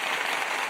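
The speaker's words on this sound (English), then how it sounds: "Oh, look, I can do an applause." Canned applause effect played back from a media asset during a livestream, a steady dense wash of clapping with no gaps, fairly quiet and heard on its own.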